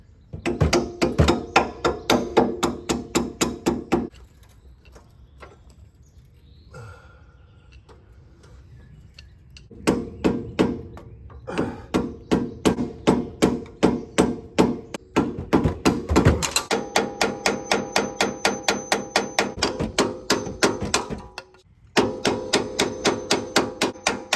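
Repeated hammer strikes drive a bolt out of the lower ball joint on a first-generation Toyota Sequoia during a 2-inch lift install, coming as loud, rapid metallic blows in several bursts separated by brief pauses.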